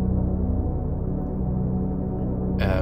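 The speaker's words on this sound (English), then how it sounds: "This what I call the Twin Peaks pad sounds like this" A Twin Peaks-style synth pad plays alone as a sustained, loud tonal drone, with a brighter, harsher burst entering near the end.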